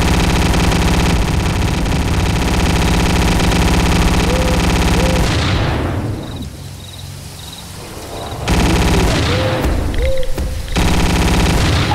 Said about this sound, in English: Okay, this is pretty much a machine gun.